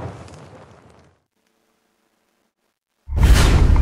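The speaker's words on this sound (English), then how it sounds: "Cue the explosion" An explosion in a combat video game bursts in loud and close after a second of near-silence. It follows a brief stretch of muffled game noise.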